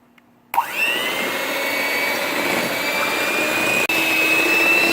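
Electric mixer beating cake batter for a pineapple upside down cake, a steady loud motor whine that starts abruptly after a short quiet moment and runs continuously, with one brief dropout near the end.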